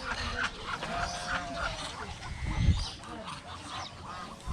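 Noisy outdoor ambience at Larry's Hill, Indahag, Cagayan de Oro City, with overlapping honks and quacks from ducks, steady and moderately loud throughout.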